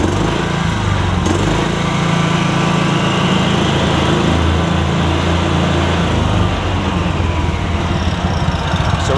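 A John Deere Gator engine runs steadily after starting, following an ignition repair on a hard-starting unit, a loud continuous small-engine drone with a slight throttle change, close to the microphone.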